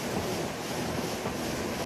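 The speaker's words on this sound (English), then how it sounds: "A gang saw with multiple blades slices granite blocks while water cools the system and clears debris" A multi-blade gang saw slices granite blocks under running cooling water, a loud, steady broadband wash of grinding and spray with no breaks and no voices.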